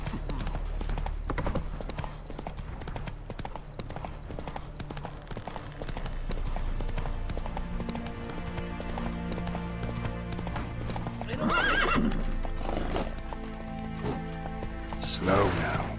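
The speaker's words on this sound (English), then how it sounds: "Whoa there, Roach" Horse hooves clip-clop steadily in The Witcher 3 video game, with neighs and snorts rising near the end over game music, and a voice speaking.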